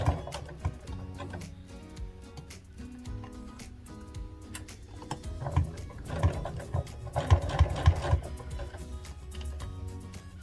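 A sewing machine stitching the pants of a pair of overalls, with quiet intermittent ticking and tapping early on, then louder rhythmic bursts of stitching in the second half.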